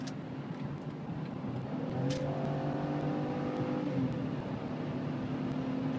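A car with a Duratec engine pulls through 3rd gear, its engine note steady and rising slightly under a constant cabin drone, heard from inside the car.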